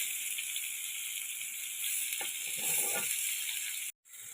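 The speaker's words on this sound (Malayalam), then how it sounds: "അപ്പോൾ നമ്മുടെ മീൻ നല്ല വൃത്തി പൊരിഞ്ഞ് വന്നിട്ടുണ്ട്" Fish fries in hot oil in a pan with a steady, close sizzle and hiss. The sound swells slightly midway and drops out briefly near the end.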